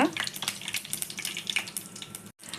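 Cumin and mustard seeds crackle in hot oil for a South Indian tempering, with rapid popping bursts over a constant sizzle and a short silent gap near the end.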